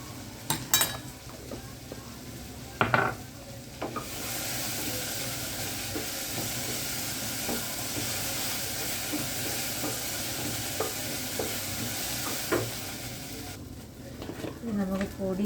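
Ginger garlic paste sizzles steadily in hot oil in a pan for a tuna curry, with a spoon stirring and scraping against the pan and a few clinks, while a voice speaks over the frying.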